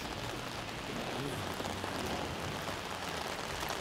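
Heavy rain falling on surfaces during a walk in North End, a steady close patter and hiss that stays continuous, with no talking.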